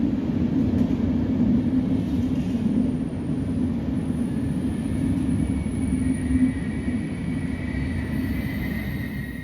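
The Metropole international train with Polish, Czech and Hungarian carriages rumbles steadily through a station, a low continuous rolling noise with faint high squeal, moderately distant and without talk.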